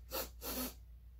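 Two quick, close nasal sniffs at a scented squishy-smelling holder from a Dollar Tree haul, breathy and soft, followed by quiet room tone.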